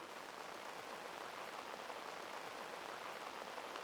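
Steady rain falling and pattering on surfaces around a BMW E38 740i, a faint, even, continuous hiss with no talking.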